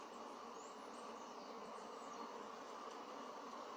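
A dense, steady buzz of many bees swarms continuously around the listener, a constant droning hum with no pauses or voices.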